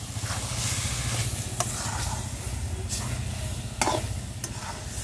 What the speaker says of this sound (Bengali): হালকা একটু নাড়ি চাড়িয়ে নিচ্ছে লেবুর রসটা দিয়ে।